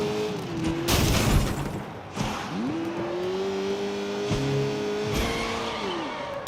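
Car engine in the video game Sleeping Dogs drives with a steady revving drone, broken by several loud crash and impact bursts as the vehicle hits obstacles, no talking.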